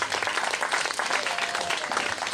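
An audience applauds Veronica Giffi at a poetry reading, a sustained, even wash of many hands clapping, fairly full and close throughout with no voices over it.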